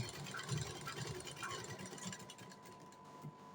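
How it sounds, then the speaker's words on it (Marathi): Sewing machine stitching the lower side of a kathpadar blouse, a steady low mechanical whir running continuously at moderate-low level with faint buzzing hum. "त्या प्रकारे खालच्या साईडून पण शिलाई मारून घ्यायची आहे"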